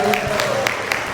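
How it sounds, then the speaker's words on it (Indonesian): A short burst of congregational clapping for the praise and worship team at an Indonesian church service in Maastricht, with sharp individual claps audible over a musical tone and some speech. "Boleh kasih tepuk tangan buat mereka sekali lagi."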